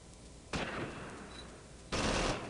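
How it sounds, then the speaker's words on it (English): Two loud bursts of gunfire from a Close Combat Invasion Normandy battle between Allied airborne troops and Fallschirmjager, each broad blast sustained for over a second with a brief lull between them. "we're taking a little bit of fire"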